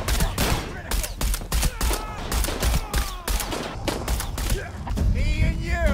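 Gunfire in Shadow of the Tomb Raider, with rapid shots cracking over mechanical creaks and thuds and whistling effects, loud and busy, with a voice now and then beneath the action.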